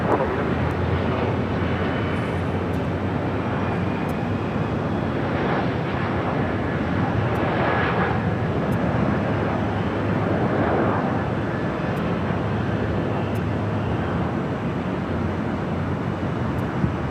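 An airliner lands on runway 24 right at LAX, heard as a steady, broad roar of jet engine and wind noise that holds without a break throughout.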